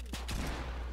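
Short burst of video-game gunfire, a few quick muffled shots in rapid succession at low level, with no talk.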